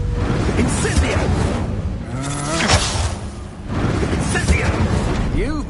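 Incendio fire spell cast in a wizard video game, a loud whooshing fire blast with booming bursts over a busy combat soundscape, a short dip in the middle before the roar picks back up.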